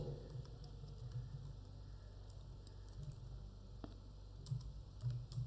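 Typing on a computer keyboard while entering a chart title in Excel, soft scattered key clicks at a low level, faint and close with a steady background hum.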